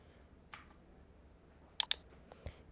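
Computer mouse clicks come through sparsely against a quiet background: one soft click, then two sharp close clicks in quick succession, then a couple of fainter taps.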